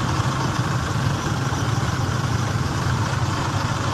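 A motorcycle engine idles steadily and close by with a continuous low rumble throughout, and no voices are heard.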